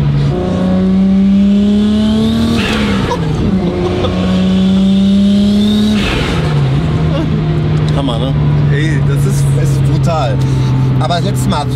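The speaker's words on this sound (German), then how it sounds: "Also da kommen so viele Geräusche hier aus dem Motorraum, das so kenne ich es auch nicht." Toyota Supra MK4 turbo engine revving hard, its steady loud drone rising and falling in pitch with two distinct throttle sweeps, mixed with mechanical clatter and whooshing from the engine bay as someone speaks over it.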